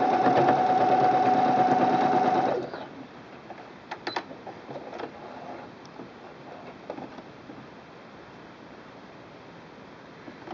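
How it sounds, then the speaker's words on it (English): A sewing machine stitches the back seam of a fabric wine bottle gift bag, running steadily for about two and a half seconds before stopping, followed by scattered faint clicks and handling noises. "there your back seam is sewn"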